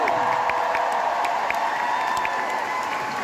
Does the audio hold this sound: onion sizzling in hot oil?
no